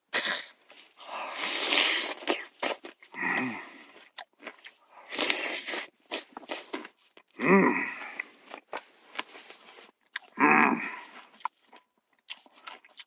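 Freshly caught eel being eaten outdoors by a lake, with several separate bursts of close, wet chewing and crunching separated by pauses, fairly quiet.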